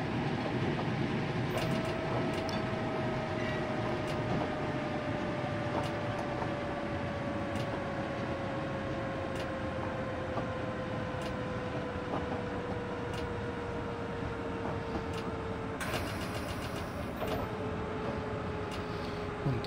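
Steady, continuous rattling and rumbling of a London Underground Bakerloo Line train running in Train Simulator, with a faint tone gliding slowly downward as it rolls along alone without talk.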